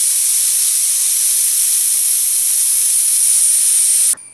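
A pressure cooker cooking beef curry vents a loud, continuous high-pitched steam whistle, close and unbroken for about four seconds before cutting off abruptly with a brief clatter.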